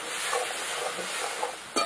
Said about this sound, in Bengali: দিয়ে এবার মশলাটাকে ভালো করে একটু কষিয়ে নেবো।